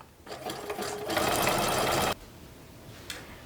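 Sewing machine stitching elastic onto a leggings waistband, a dense steady whir lasting about two seconds and then stopping abruptly, leaving quiet room tone with a faint click near the end.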